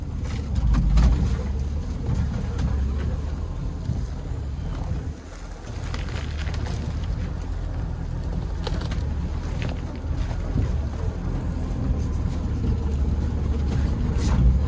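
A low engine of a 1973 Land Rover Series 3 drones steadily at slow off-road crawling speed, close by, with wind buffeting the microphone and occasional knocks and rattles.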